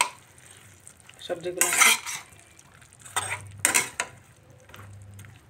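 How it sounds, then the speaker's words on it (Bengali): Vegetables with grated ginger and slit green chilies stirred in a pan for a rohu fish curry, a spoon clinking and scraping against metal in a few bursts, with a faint low hum beneath and a brief spoken word. "আদা কাঁচা লঙ্কা দিয়ে আরও একবার আমি ভালো করে মিক্সড করে নিচ্ছি"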